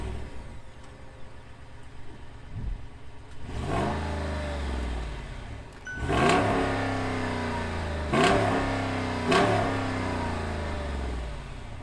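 A 2022 Jeep Grand Wagoneer accelerates repeatedly, its engine revving up in several strong pulls with gear changes between them, heard close and loud with no talking.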